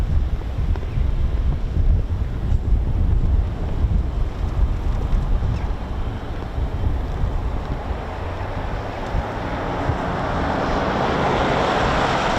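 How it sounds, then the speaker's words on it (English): Strong wind roars and buffets the microphone continuously at an airfield on a rainy day, a loud rushing noise that swells and shifts throughout with no talking. "It's so windy, it's everything's getting blown away."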